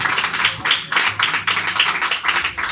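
A church congregation clapping in rhythm during worship, loud steady claps at an even beat repeating throughout, with sharp bright hits close up and no talking.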